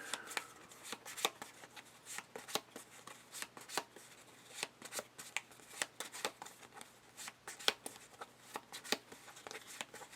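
A deck of Marvel Champions cards being shuffled nearby, a steady stream of crisp riffling flicks and taps with a few louder snaps, no voices over it.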